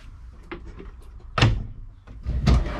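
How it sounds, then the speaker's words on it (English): A pull-out drawer inside a Lance 975 truck camper slides and knocks: a faint scrape, then two louder wooden thumps as it moves and stops, close by with no talk. "Pull out drawer."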